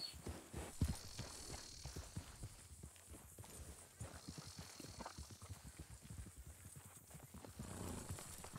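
Horses walk with a steady clip-clop of hooves and give an occasional neigh, heard faintly at a distance against low background noise.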